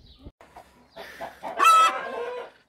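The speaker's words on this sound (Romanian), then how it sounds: "Cloca furioasa." An angry broody hen clucks in a chicken coop, with a few soft low clucks followed by a louder, drawn-out harsh squawk up close, alone without talk.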